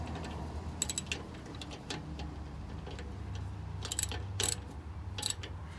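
A ratchet tightens a brake caliper bolt on a Ford Territory during a rear brake pad replacement, giving quick bursts of clicking pawl ticks over a low background hum.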